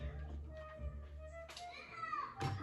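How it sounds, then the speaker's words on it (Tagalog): Children playing outside, heard from indoors as distant voices and shouts, with low household hum underneath and a couple of brief louder bursts. "Mga bata naglalaro sa labas."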